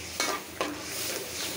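A spiced curry with turmeric, chili and yogurt frying in a pan, a steady close sizzle broken by two quick scraping strokes of a spoon stirring the mixture.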